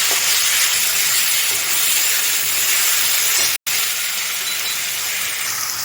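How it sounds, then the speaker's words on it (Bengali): A ginger, garlic and chili paste fries with onions in a pan, giving a loud, continuous hiss that cuts out for a split second partway through. No voices are heard. "এই পেস্টটা আমি মেনের মধ্যে দিয়ে দেব এবার ভালো করে পেঁয়াজের সঙ্গে নাড়িয়ে নেব"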